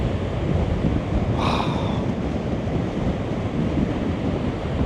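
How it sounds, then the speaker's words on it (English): Ocean surf rolling onto a wind-blown beach on the Oregon coast near Astoria, a steady broadband roar with heavy wind buffeting the microphone throughout and a brief brighter wash about a second and a half in. "Look at these beautiful, beautiful waves."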